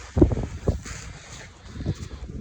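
Gusty outdoor wind over a food plot field buffets the microphone with low rumbling bursts, rising and falling over a couple of seconds, with no talking.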